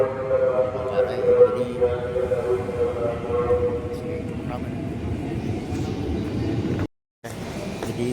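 A commuter train rumbles steadily at a station platform bound for Tanah Abang, with a continuous low engine and rail drone under nearby people talking.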